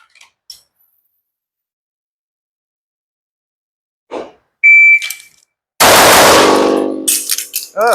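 A Sig P211 GTO pistol fires loud, sharp shots at close range in quick bursts, with a brief electronic beep before them and a pause for a reload between groups.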